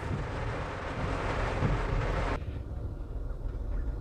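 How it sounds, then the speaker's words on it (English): Deep rumbling thunder in the African bush near Pretoriuskop, a broad low roll that fades partway through into quieter distant rumble, with no talking. "The thunder continues."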